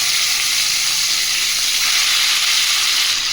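Loud, dense sizzling of whole spices, cardamom, cloves and cinnamon, frying in hot mustard oil, a continuous bright hiss with no breaks or talking.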